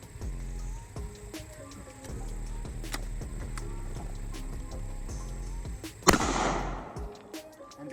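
A shotgun fitted with a rifled barrel and no choke fires once at a steel target, a sharp loud blast that rings briefly into a short noisy tail after a stretch of low mechanical rumble.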